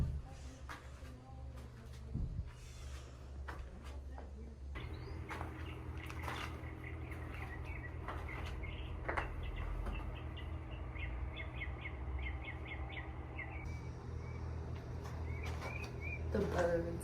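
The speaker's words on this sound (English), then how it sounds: "I really hope y'all can hear these birds. They're so pretty sounding." Birds chirp and sing in quick bursts at a campsite over a low background rumble, the calls moderately close and continuing throughout.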